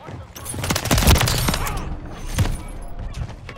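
Gunfire and explosive thumps from a Call of Duty match, with a dense burst of shots peaking near the middle and a second cluster later, under a voice talking over the game audio.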